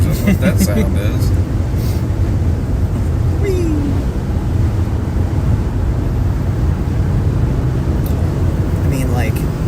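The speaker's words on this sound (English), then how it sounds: "Shaving off my tires is what that sound is." Tires roar steadily on the road from a moving car during a storm chase across the Great Plains, a constant close broadband rumble under wind buffeting, with people talking over it now and then.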